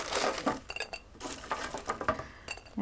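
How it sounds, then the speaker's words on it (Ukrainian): Several light clinks and taps of dry oven-toasted rusks being set down on a plate, irregular and close, with small kitchen clatter between them. "Викладаю їх в тарілку"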